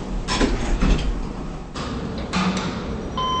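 Lift doors sliding shut in a Roblox game, a Schindler Eurolift with a British synthetic voice announcer; a couple of soft mechanical thuds and a low hum sound close by.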